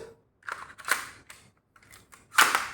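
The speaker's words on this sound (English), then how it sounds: "Take out the mag, reload." Close mechanical clicks and clacks come from the magazine and bolt of a Kirin Type-A shell-ejecting bolt-action sniper rifle during a reload: a handful of sharp, separate snaps with short quiet gaps between them.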